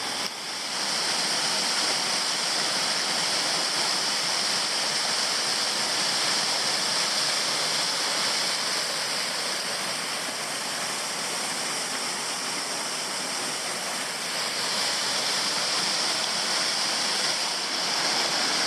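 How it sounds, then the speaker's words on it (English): Weld Angel Falls, a Tasmanian waterfall, roars steadily at close range from the base of an intermediate cascade, a dense unbroken rush of falling water with no other sounds. "So I'm at the base of an intermediate cascade."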